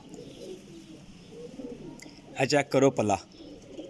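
Soft, low pigeon cooing rolls along in the background before someone speaks a few loud words near the end.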